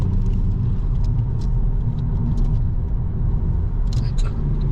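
A Hyundai i20 N on the road, heard from inside as a steady, loud low engine and road rumble with no clear revving, continuous throughout.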